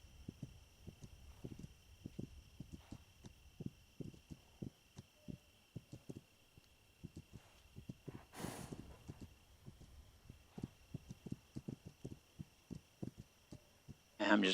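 A horse ridden at night in a Black Fox resistance video game, its hooves thudding in a steady, quick rhythm of soft dull beats under a faint electronic hum, with a brief whooshing swell midway.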